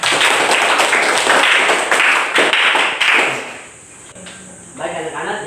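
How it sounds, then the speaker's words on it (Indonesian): Classroom of students clapping together, a dense burst of hand claps that fades after about three seconds, then a voice speaking at the end. "Ya, tepuk tangan."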